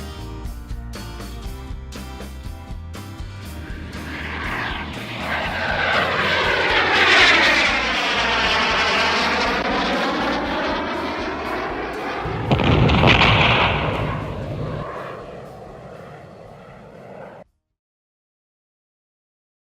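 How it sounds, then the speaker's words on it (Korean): Airplane takeoff sound effect played in the Entry coding program: a jet engine roar that swells, sweeps past loudly with a Doppler shift, surges again, then cuts off abruptly into silence. "그리고 소리 탭에 가서 비행기 이륙 소리를 추가합니다."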